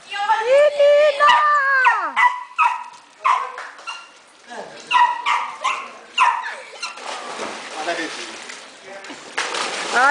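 A dog at a beach chalet in Caraguatatuba barks, whines and howls in drawn-out wavering cries, close and loud, while people talk over and between the calls.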